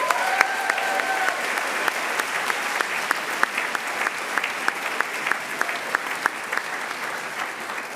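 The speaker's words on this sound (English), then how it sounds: "Another round of applause." An audience at a college graduation ceremony gives a sustained round of applause, with many hands clapping steadily throughout, loud and continuous, and a few sharper individual claps standing out.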